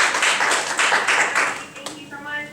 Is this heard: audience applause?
yes